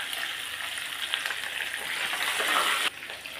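Garlic sautéing in oil with dried red chillies, onion and curry leaves, a steady bright sizzle close up that holds evenly for about three seconds, then drops abruptly to a lower crackle near the end.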